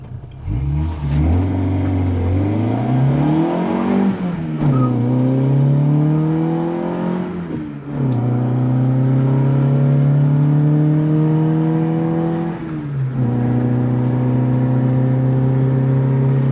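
An Abarth car accelerates onto a highway up to about 80, its engine climbing through several gears in rising sweeps with short dips at each shift, then settling into a steady loud cruise drone.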